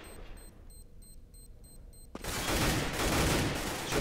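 Soft clicking in Counter-Strike on the de_train map, then a sudden burst of dense, sustained gunfire that stays loud to the end.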